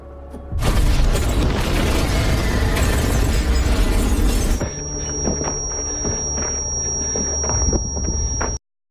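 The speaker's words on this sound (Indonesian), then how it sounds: "Karena ledakan tersebut, Picasso kini berhasil lolos dari Alex" A loud, deep explosion in an action film bursts suddenly and rumbles for several seconds, then gives way to a ringing tone and scattered debris noises before cutting off.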